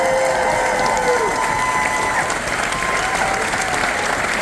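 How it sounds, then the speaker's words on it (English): Audience applause aboard a cruise ship show honoring Air Force members, a loud sustained wash of clapping with some cheering from the crowd, steady for several seconds. "Give them a big round of applause."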